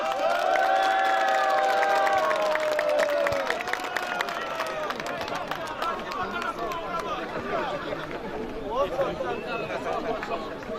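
A football match crowd at a charity anti-drug event cheers and claps under a loud announcer's voice, with whistle-like tones early on and steady crowd noise throughout.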